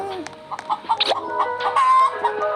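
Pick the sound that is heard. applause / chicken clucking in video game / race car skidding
chicken clucking in video game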